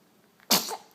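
A six-week-old baby gives a single sudden sneeze, a short, sharp burst heard up close that fades quickly into a softer breathy tail.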